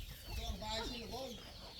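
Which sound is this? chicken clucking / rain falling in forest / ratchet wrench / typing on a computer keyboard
chicken clucking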